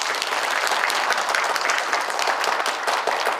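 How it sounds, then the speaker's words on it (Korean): A hall full of attendees at a regional express railway forum breaks into a steady round of applause, dense and even throughout. "박수 부탁드리겠습니다"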